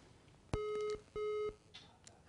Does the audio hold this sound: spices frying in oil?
no